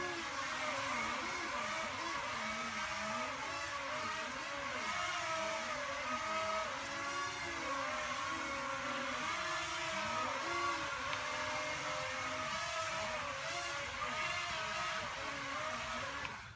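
A hovercraft engine runs at about half throttle with a steady, continuous drone and a gently wavering pitch, close and sustained throughout with no talking.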